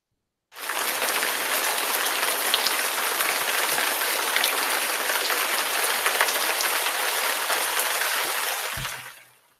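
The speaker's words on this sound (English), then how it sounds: "Sorry guys, I have an ice storm suddenly" Sudden ice storm with hail pelting down, a dense, steady hiss and patter of countless hard pellets striking surfaces, loud and continuous for several seconds before cutting off abruptly.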